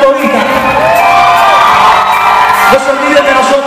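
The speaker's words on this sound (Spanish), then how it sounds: "Fuerte aplauso para ellos, la Fundación Bolívar" Concert audience in Quito cheering and whooping at a show, a loud sustained crowd roar with shouts rising and falling, briefly dipping near the end before surging again.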